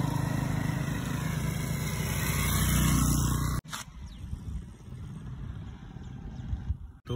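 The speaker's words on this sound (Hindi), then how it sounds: "इसकी इंजन की कंडीशन भी आपको दिखा देता हूँ।" A motorcycle offered for sale runs its engine in a loud, steady idle that cuts off partway, followed by quieter low rumbling and handling noise.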